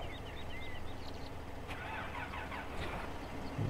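A tractor engine in a farming video game rumbles steadily at low pitch, with a mechanical whine and some clanking layered over it.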